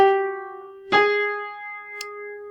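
A sustained musical tone followed by a second tone one half step away, clear and alone with no talking.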